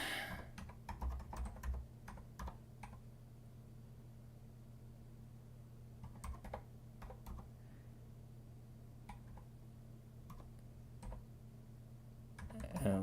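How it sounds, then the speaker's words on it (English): Quick keyboard typing on a computer during a live coding session, with bursts of clicks at the start, middle and end over a steady low hum in a quiet room. "let me just type it quickly"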